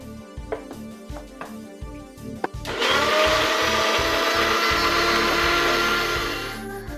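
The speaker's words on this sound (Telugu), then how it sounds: "కొన్ని వాటర్ వేస్తూ మనం మిక్సీ పట్టి చేసేసుకుంటే సరిపోతుంది" Kitchen mixer grinder (mixie) blending a weight-loss juice with a little water: a few short bumps and pulses, then a loud steady whirring roar that runs close and continuous, easing slightly at the end.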